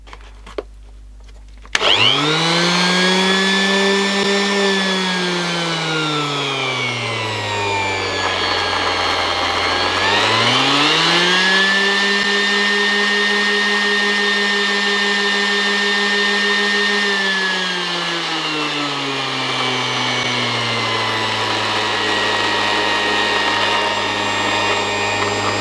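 A Ryobi random orbital sander whirs up to a loud, close motor whine, drops in pitch and speeds back up, then runs steadily for the rest of the clip with no one talking.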